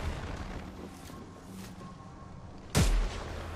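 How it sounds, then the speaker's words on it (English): A single sharp, loud shot from a charge rifle in the Apex Legends video game, standing out near the end above a steady bed of quieter in-game battle noise. "Oh, is that a charge rifle?"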